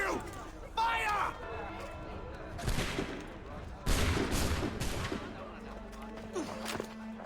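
A musket volley in Assassin's Creed 3, several ragged bursts of gunfire cracking close together across the scene, mixed with shouting voices and battle noise.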